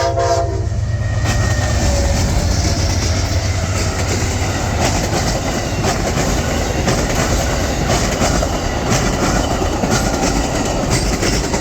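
A train rolls past close by near the old Amtrak station in Lakeland, Florida, a loud, continuous rumble and rattle of rail cars, opening with a brief horn blast.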